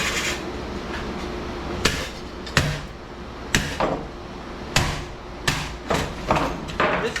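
A hammer beats apart scrap metal to free copper and aluminum, about eight loud, ringing metallic blows landing at an irregular pace, close to the listener, with no voices.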